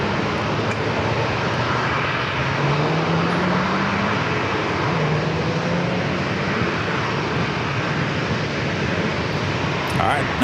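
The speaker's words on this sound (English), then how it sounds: "now rolling down the runway 27" An airliner takes off on runway 27 at San Diego airport, its engines producing a loud, steady broadband roar with a slowly rising drone that holds throughout, with faint radio chatter underneath.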